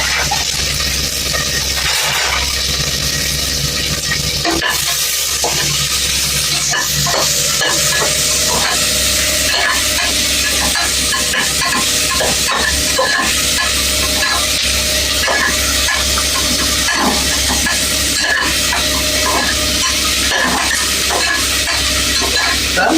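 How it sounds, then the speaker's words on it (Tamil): Onions sautéing in a pan for a vegetable meal, a loud close sizzle and hiss that runs without a break, with frequent clinks and scrapes of stirring on the pan and no voices. "வெங்காயம் கொஞ்சம் வதங்கணும்,"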